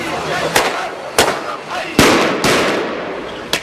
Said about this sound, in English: The fireworks were to tell people it was time for the evening protest.